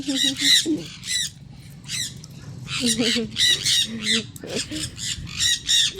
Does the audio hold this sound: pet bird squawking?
yes